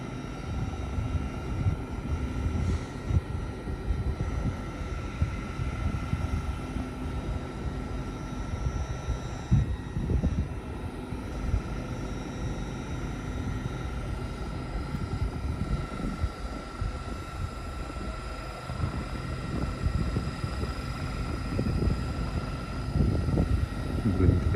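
An LNER train departs Doncaster station on the Edinburgh service, a steady low rumble and engine drone building and holding for the whole stretch, with faint station ambience and tonal hum above.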